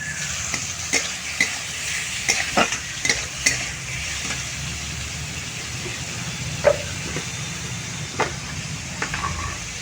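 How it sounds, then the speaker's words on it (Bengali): Onion and chicken pieces fry in a pan while being stirred, a steady sizzle with repeated scraping strokes of the spoon running through it, close and moderately loud, no talking. "পেঁয়াজটা একটু ভাজা হচ্ছে। তার মধ্যে আমি দিয়ে দেবো এই চিকেনের টুকরোগুলো।"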